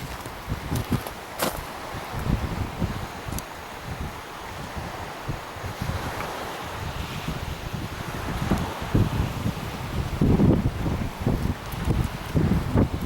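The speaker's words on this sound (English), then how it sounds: "You can probably see the wind starting to blow a bit more fiercely now." Gusty wind blowing outdoors near Killin in the Scottish hills, a loud, steady rushing roar buffeting the microphone, with intermittent rustling and crunching sounds close by and no talking.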